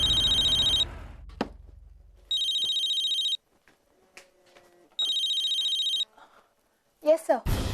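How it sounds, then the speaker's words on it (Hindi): Telephone ringing in a Hindi TV drama scene: three bursts of a bright electronic ringtone, each about a second long, with a short thump and soft background sounds between rings. "मैं अभी पूर्वी को फोन करता हूँ"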